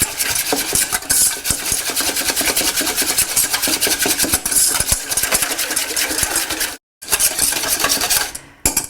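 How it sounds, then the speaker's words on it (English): Curry yogurt dressing for a Moroccan couscous salad whisked briskly in a bowl, a dense, steady run of quick metallic scraping strokes close by that stops briefly near the end. "now I'm just going to whisk"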